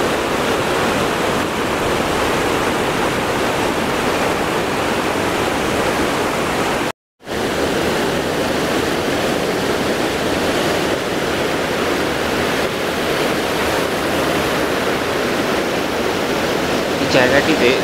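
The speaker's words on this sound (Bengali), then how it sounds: "এই জায়গাটিতে জলের বেশ স্রোত আছে" Fast-flowing river at a riverside camping and picnic spot in Chelkhola, Gorubathan, rushing in a loud, steady, close wash of water that drops out briefly once partway through.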